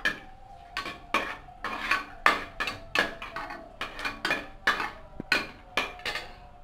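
Bay leaf, cinnamon and cloves frying in oil for a mixed vegetable kurma, stirred with a metal utensil; quick, close, rhythmic clinks and scrapes against the pan repeat about twice a second over a faint sizzle.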